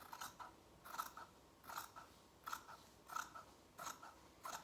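Scissors cutting through lined curtain fabric spread flat, a close, quiet run of about seven crisp snips at a steady rhythm with no voices.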